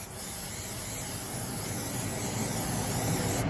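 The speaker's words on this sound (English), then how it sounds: "I'm gonna go ahead and spray" A steady aerosol leather protector spray hisses without a break for a few seconds onto a vachetta leather handbag, close by and fairly quiet.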